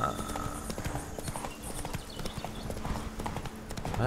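Horse hooves clip-clop steadily while riding through a dark forest in The Witcher 3: Blood and Wine on PC, a fast, even rhythm of hoof strikes over a continuous background of game ambience.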